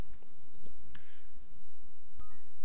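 A computer mouse gives a couple of faint, sharp clicks in a quiet room, spaced about a second apart, while software is operated on a desktop.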